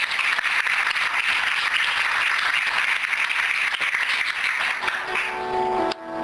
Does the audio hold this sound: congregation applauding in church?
yes